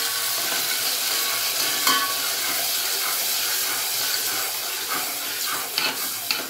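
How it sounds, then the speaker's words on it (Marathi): Gram-flour batter being stirred into a pot of yogurt kadhi for kadi pakoda, a steady soft hiss and scraping churn that runs close and continuous with no talking. "व्यवस्थित सोडताना त्याला व्यवस्थित हलवूनच घेऊया, नाहीतर लगेच गुठळ्या होतात."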